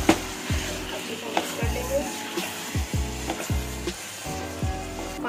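Pumpkin curry sweetened with a few spoons of sugar cooks in a pan, giving a sizzling, bubbling sound with repeated clattering pulses throughout a short stretch, fairly loud and close.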